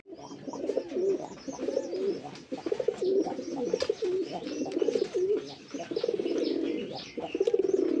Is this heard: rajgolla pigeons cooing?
yes